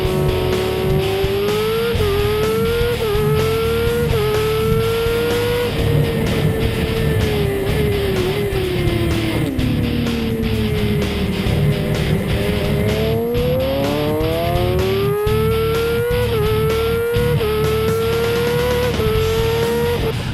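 A superstock racing motorcycle laps Knockhill circuit, its engine screaming loud and close throughout, the pitch climbing through gears, dropping under deceleration into a corner, then rising again as it drives hard out, with constant wind roar.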